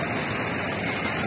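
A flooding river runs behind a house after the Meppadi landslide in Wayanad, a steady, dense rushing roar of water with no breaks.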